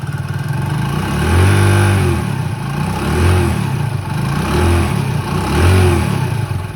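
A turbocharged motorcycle engine revs loudly up close in about four rising and falling waves, with a steady airy turbo whoosh running underneath.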